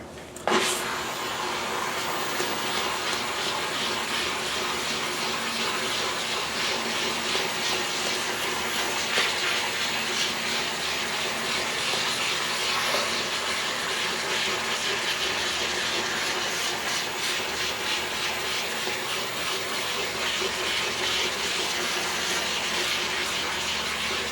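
A steam cleaner works over car carpet, giving off a constant, fairly loud hiss that carries on almost unchanged throughout.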